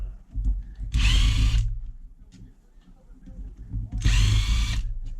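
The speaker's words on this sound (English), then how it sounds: "Take the bumper screws out now." A power drill backs bumper screws out of an old-school nitro RC car in two loud, close bursts of about a second each, with quieter bench handling between them.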